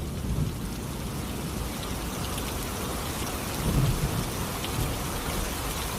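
Steady night rain falls in an even, dense hiss on surfaces, with a soft rumble of thunder swelling briefly midway; no voices, just the constant downpour throughout.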